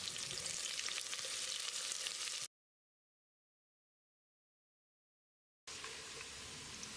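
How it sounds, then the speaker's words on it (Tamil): Steady hissing sizzle of lengthwise-sliced onions frying golden in oil for Ambur mutton biryani, close and continuous, broken by a stretch of total silence in the middle. "இதை போட்டு பொன்னிறமாக வதக்கிடலாம்"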